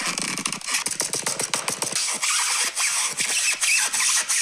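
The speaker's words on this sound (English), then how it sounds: "He's fucking with a piece of styrofoam and rubbing styrofoam" A piece of styrofoam is rubbed in rapid, scratchy squeaks, a dense run of sharp clicking strokes that carries on steadily and fairly loud, with no voices.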